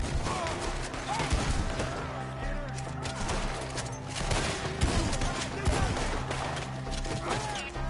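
Dense gunfire from a shootout in Red Dead Redemption 2 crackles continuously, with rapid overlapping shots and bangs, and shouted voices break in amid the volleys.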